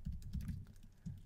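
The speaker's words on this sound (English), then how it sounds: "I'm typing around my mic." Soft clicking of computer keys being typed in short irregular bursts, close to the microphone and quiet, with no voices.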